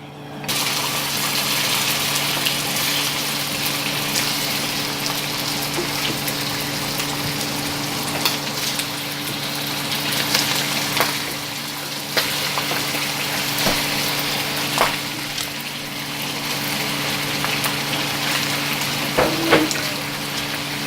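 Pork for Shanghai-style braised pork sizzles in caramelizing sugar in a pan, giving a steady, dense, close frying hiss that runs throughout with small pops and crackles.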